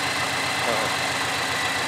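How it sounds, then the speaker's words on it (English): A Subaru BRZ engine idles steadily up close after a new fuel pump install, a low rhythmic rumble with a constant throbbing pulse and no change in speed. "I left the car idling the way it is right now. It's just idling."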